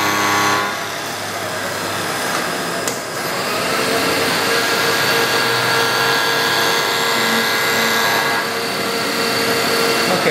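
Milling machine spinning at 1600 RPM while taking a light skim cut, a loud continuous whirring and grinding hum with a brief dip partway through, steady and close.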